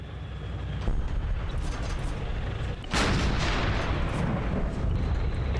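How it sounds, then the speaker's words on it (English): A tank fires its main gun in a German-versus-Russian combined-arms Arma battle: a loud, broad blast lands partway through and rumbles on over steady battlefield noise, with an earlier, smaller report before it. "Oh dear, that's the tank shooting."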